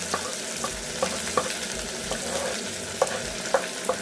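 Garlic hits a hot pan while cooking a spicy fish fillet, frying with a continuous sizzle and a few sharp clicks and taps, like a utensil stirring against the pan, with no voices.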